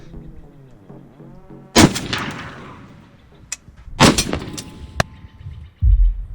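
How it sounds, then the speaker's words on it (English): A Barrett .50 caliber rifle fires loud, sharp, booming shots at a sniper range: a heavy blast near 1.8 s, two close blasts around 4 s, a sharper crack near 5 s, and another low boom at the end, with quieter rumbling between. "this Barrett 50 cal, which we got to shoot"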